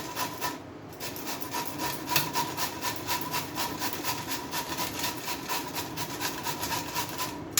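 Bottle gourd is grated into thin slices by hand, producing a fast, regular series of close rasping strokes that continues without a break.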